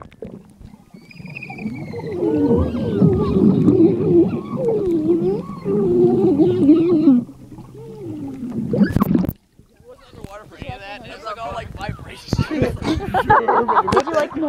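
Screams under the water of a swimming pool, captured inside a waterproof case: muffled, warbling, distorted howls that rise and fall over several seconds, then choppy bursts of bubbling vocal noise.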